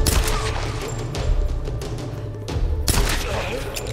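Gunfire in the Tomb Raider video game, a dense volley of shots and booms running throughout, loud and close, with a brief lull before another burst.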